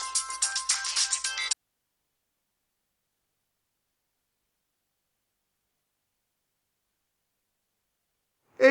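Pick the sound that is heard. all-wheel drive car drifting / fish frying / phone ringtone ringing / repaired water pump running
phone ringtone ringing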